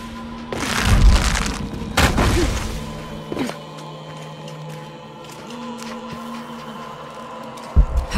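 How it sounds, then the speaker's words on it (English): A loud in-game explosion in Shadow of the Tomb Raider: two heavy booming blasts close together, followed by a lingering low rumble and scattered debris clatter, with a final thud near the end. "Have to create an explosion."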